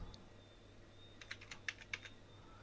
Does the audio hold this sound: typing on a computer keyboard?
yes